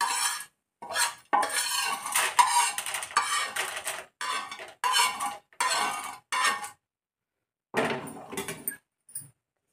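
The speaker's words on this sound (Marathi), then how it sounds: "धने, खसखस तेही भाजून घेऊ मस्तपैकी." Coriander seeds and poppy seeds dry roasting in a pan, with a series of scraping, clinking stirs that come in bursts separated by short pauses, close and fairly loud, with no talk.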